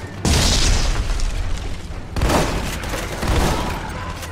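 Heavy explosions from grenades and weapons fire in the Army of Two: The Devil's Cartel shooter game, with three loud booms in succession, each decaying into rumbling debris noise.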